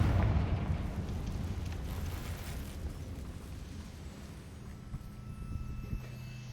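A Confringo fire spell bursts in the Hogwarts Legacy video game, a loud rumbling blast at the start that decays into a long, lower crackling roar, with a few fainter pops near the end.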